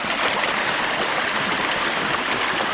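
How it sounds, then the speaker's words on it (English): A small mountain creek between snowy banks flows steadily, a close, continuous broadband rush of water with no voices. "You can see the creek is doing fine."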